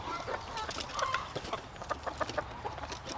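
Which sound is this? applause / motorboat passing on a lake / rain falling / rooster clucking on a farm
rooster clucking on a farm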